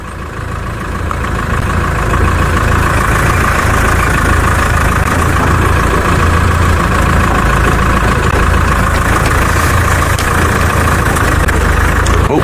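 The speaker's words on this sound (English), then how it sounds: "we are driving in almost absolute dark at the moment" A safari vehicle's engine runs steadily at night in the Maasai Mara, with a continuous low rumble and drone heard close up throughout.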